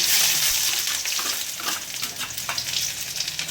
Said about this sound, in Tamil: அதில் இப்போ கடுகு போட்டுக்கலாம் வெங்காயம் போட்டுக்கலாம்